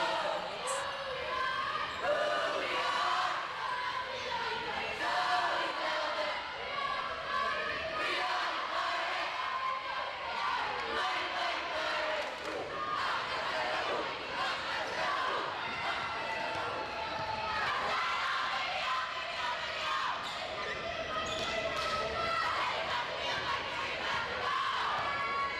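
A crowd at a girls varsity high school volleyball match between Palatine and Fremd cheers and shouts continuously, a dense roar of voices with a commentator talking over it.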